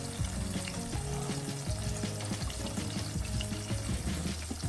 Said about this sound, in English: as you can see or hear, they are frying